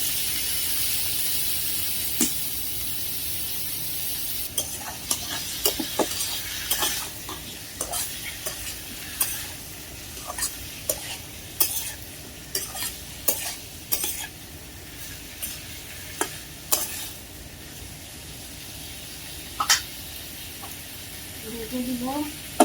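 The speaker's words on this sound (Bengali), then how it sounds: "এখন পেঁয়াজ মরিচটা ভেজে নিব। এখন করলা আর আলু দিয়ে দিব।" Bitter gourd and potato frying with onion and green chili, a constant low sizzle broken by repeated sharp spatula scrapes and clinks against the pan, close and fairly loud, with a voice now and then.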